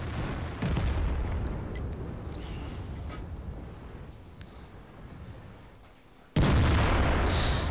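Tank gunfire in the World of Tanks video game: a loud booming shot near the start, rumbling battle noise that fades, then another heavy blast near the end.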